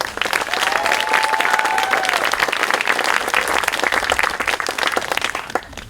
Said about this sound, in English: Let's give these kids a clap.